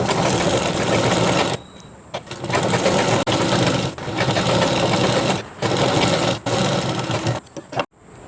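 A sewing machine stitches a folded hem on a chudidhar bottom, running in fast, loud bursts with brief stops between runs, close and alone.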